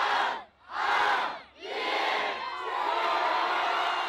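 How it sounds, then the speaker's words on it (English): A huge New Year crowd on the Champs-Élysées in Paris roars and cheers for the fireworks in loud, dense waves, with two surges followed by a sustained wall of shouting and whooping. "in Paris, crowds filled the Champs-Élysées for the fireworks. Local media estimated 1 million people came to cheer in"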